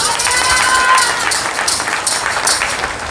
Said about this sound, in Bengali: প্রভুর জন্য জোরসে করতালি হোক